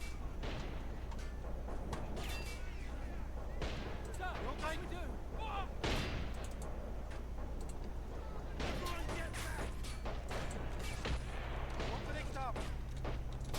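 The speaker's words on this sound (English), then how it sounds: "So the second line of defense has started firing in earnest" Rapid, crackling gunfire from toy-soldier troops in the strategy game Army Men of War, bursts and scattered sharp shots overlapping continuously, with a speaking voice running beneath the battle noise.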